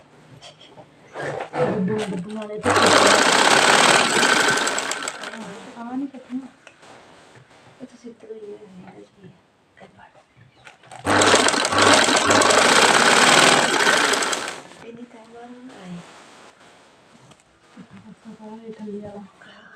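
Sewing machine stitching lace onto a plain suit runs in two loud sustained bursts, each a few seconds long, with someone talking quietly in between.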